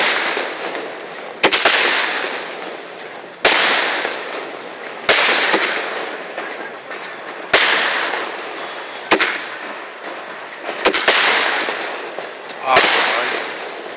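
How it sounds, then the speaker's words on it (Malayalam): Firecrackers go off at a festival in a series of loud, sharp blasts about every two seconds. Each bang trails off into a fading rumble. "Bomb blast."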